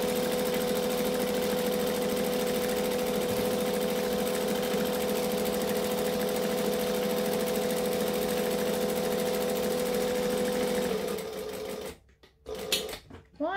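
A sewing machine stitching straps runs steadily and loudly at close range with a constant whirring hum, then slows and stops near the end, leaving a few clicks and handling noises.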